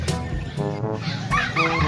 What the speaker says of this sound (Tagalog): Tapos may mga sisugin na manok.